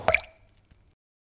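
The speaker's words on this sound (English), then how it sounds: "if the AC condenser tube drips water into the well" A single drip of water falls from an AC condenser tube into a car's spark plug well, a sharp close plop with a faint watery tail that quickly fades to silence.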